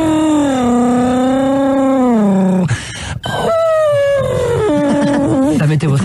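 A voice mimics a racing car, a long, loud nasal engine whine that sweeps up and down like gear changes and passing laps, broken by a short gasp and then more revving.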